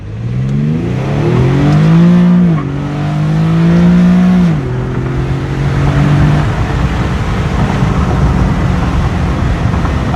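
An Infiniti G37 sedan accelerates hard from 60 to 130 mph, its engine note climbing loudly and dropping at each upshift, then settling into heavy wind and road roar.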